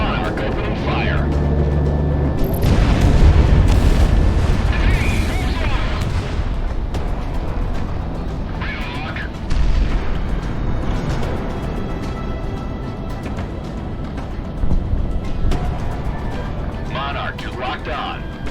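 Aircraft cannon fire and explosions in the combat flight game Project Wingman, dense rumbling booms and bursts throughout, loud and continuous, with radio chatter over them.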